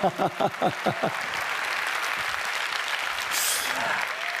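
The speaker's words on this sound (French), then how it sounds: "Applaudissez-le très fort, s'il vous plaît" At a France-Africa summit, an audience applauds Shinzo Hanza. A voice speaks briefly at the start, then steady clapping carries on beneath for several seconds.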